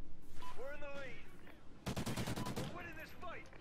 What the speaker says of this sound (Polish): Coś do mnie strzela.